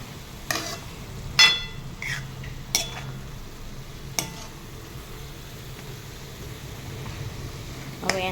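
Fenugreek leaves stirred in a cooking pan, a few sharp utensil scrapes and clinks against the pan over a faint low sizzle, with quiet stretches between strokes.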